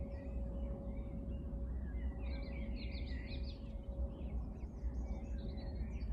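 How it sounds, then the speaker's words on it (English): Birds sing and chirp in a garden on a quiet evening, scattered faint twittering phrases over a low steady background hum, without any talk. "You can just hear the birds."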